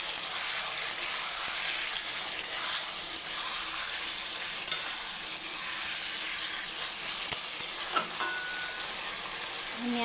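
Chicken and potatoes being stirred as they fry in oil in a pan, with a steady close crackling sizzle, occasional scrapes and light clinks of the spoon, and no talking.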